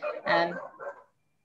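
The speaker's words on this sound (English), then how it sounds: "That's my dog that's woken up." A pet dog barks a few times in a short burst from inside a home during an online presentation, fairly close and loud, then falls quiet.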